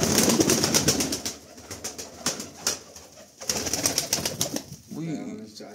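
Pigeons coo close by at a bird-selling spot, with low rolling calls mixed with sharp clicks and handling noises.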